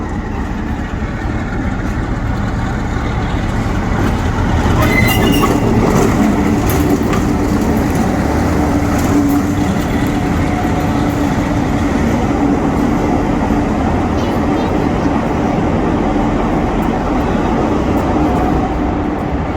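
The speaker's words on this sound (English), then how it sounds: "So if you put headphones on, you'll hear the actual deepness of the engine." A loud, steady diesel train engine rumble drones continuously, deep and close from inside the cab, with a faint metallic rattle riding on top.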